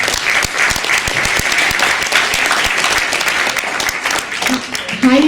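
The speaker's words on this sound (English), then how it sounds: "So give her a big round of applause" An audience at an immigration talk in a church applauds, a full round of clapping with sharp individual claps standing out, and a voice begins speaking as the applause fades at the end.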